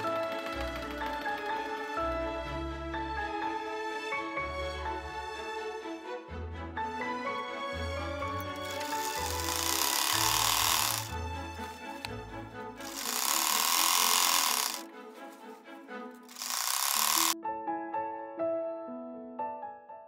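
Antique 1888 sewing machine stitching dress fabric, rapid rhythmic needle clatter in repeated bursts over a music background.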